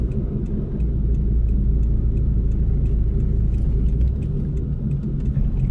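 Steady, loud road rumble and engine drone inside a car driving through the DK1 and DK44 highway junction in Tychy, continuous with no talk.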